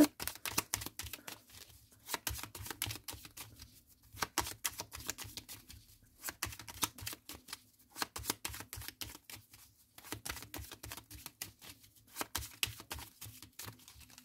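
Tarot cards being shuffled for a reading, repeated riffling bursts in a steady rhythm with short pauses between, close and fairly crisp, no talking.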